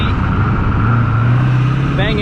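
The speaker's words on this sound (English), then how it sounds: "She's on the street, banging gears again, just how we remembered it." A 7.3L diesel OBS Ford flatbed truck engine rumbles steadily at close range with a low drone, rising slightly in pitch as it pulls away, with a voice briefly over it.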